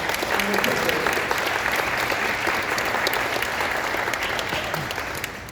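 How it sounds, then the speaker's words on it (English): Strong audience applause for startup founders after a round of pitches on a business pitch show, a full, continuous roar of clapping that begins loud and eases slightly toward the end. "let's give a round of applause to all of the startup founders"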